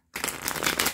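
A deck of cards is riffled in one quick, crisp burst, close up, lasting under a second.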